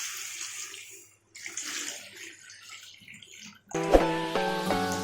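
Tamarind extract is poured into a simmering colocasia curry, a soft liquid pour and splash followed by a louder clatter and ringing from the pot near the end.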